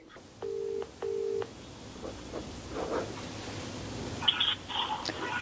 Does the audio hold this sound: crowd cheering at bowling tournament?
no